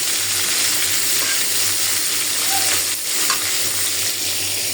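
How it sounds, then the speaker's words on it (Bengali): Shing fish fries in hot oil with a steady, loud sizzle that crackles throughout and never stops, with no voices on top. "মাছটা ভাজা হয়ে গেছে"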